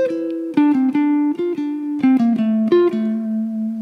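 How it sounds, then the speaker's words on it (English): A jazz guitar plays a short melody of clean, plucked single notes with steady sustain, distinct attacks in a loose rhythm, the last note ringing out, while faint chord tones sit softly underneath. "You can hear the chords in the background while I play"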